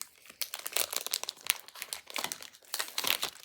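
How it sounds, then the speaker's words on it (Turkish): Crinkling plastic wrapper of an Ülker Dubai chocolate bar being torn open, a steady run of close, sharp crackles and rustles with no talking. "O zaman ben laf uzatmadan açıyorum paketi."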